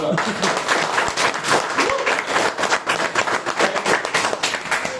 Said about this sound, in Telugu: నెలకి 6 లక్షలు అంటే ఎలాగే పడతారు క్లాప్స్ మీరు